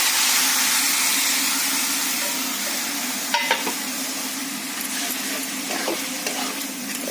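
Fried spices tipped into a pan of red amaranth greens, then stirred, giving a steady close sizzle with a few scraping clicks near the middle and toward the end.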